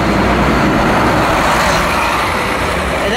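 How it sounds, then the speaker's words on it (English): A bus passing close by on a New York City street gives a loud, continuous engine roar and road noise that fills the whole moment without pause. "And that was a bus."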